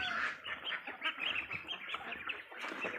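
Home-bred ducks out grazing on grass in the evening quack and honk steadily, a close cluster of overlapping calls filling the whole stretch.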